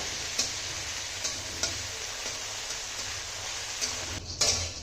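Potatoes fry in oil with cumin and fennel tempering, peanuts, cashews and raisins, giving a steady close sizzle with faint stirring clicks and no voices.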